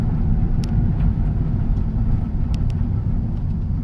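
A Nissan 350Z, a rear-wheel-drive sports car, accelerating on a country road, its engine a steady loud low rumble heard from inside the cabin, with no talk.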